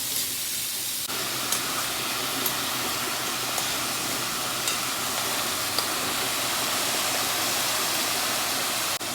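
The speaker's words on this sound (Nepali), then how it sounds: "यसरी हल्का हल्का फ्राई गर्ने।" Food frying gently in a pan for a homemade jaulo, a steady, even sizzle that holds for several seconds with tiny pops scattered through it and no talking.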